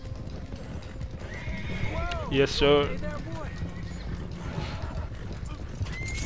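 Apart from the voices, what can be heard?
horse hooves trotting, from a video game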